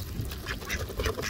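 Ducks by a dock on windblown water quack repeatedly in quick, raspy bursts, several birds close by and fairly loud, with no talk.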